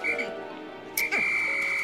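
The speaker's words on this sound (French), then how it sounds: "Et toujours le petit sifflet, assez sympa" A whistle sounds in the Pikmin 3 video game. A steady whistle tone plays briefly, then a sharp sweeping chirp leads into a longer held whistle, with soft game music underneath.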